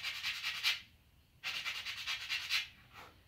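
Sandpaper rubs against the wooden paddle bow in close, scratchy back-and-forth strokes, two short bursts separated by a brief pause.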